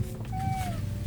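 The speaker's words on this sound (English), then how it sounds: "And now a cat's trying to get in." A single cat meow in an indie video game, a rising then gently falling tone lasting under half a second, clear over a low steady background hum.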